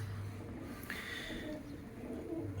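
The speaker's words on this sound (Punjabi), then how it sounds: "ਲੋ ਅੱਜ ਚੱਕੇ ਆ ਜੀ ਕਬੂਤਰਾਂ ਹੇਠੋਂ ਨਵੇਂ ਬੱਚੇ" Pigeons in a loft with newly hatched young give low, soft coos near the start and again at the end, with a short high chirp in between over a constant background hiss.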